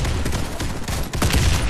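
Dense, continuous gunfire in a Warface clan-war match, rapid overlapping shots and bursts filling the whole stretch at steady loudness, with no talk over it.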